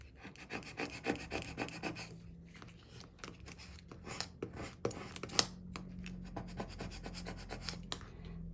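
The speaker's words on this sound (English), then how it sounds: "oh, it needs a little more burnishing" Adhesive foil is burnished onto transfer tape with a crafting tool, a close, soft, rhythmic rubbing and scratching made of many quick strokes, one after another, with no talk over it.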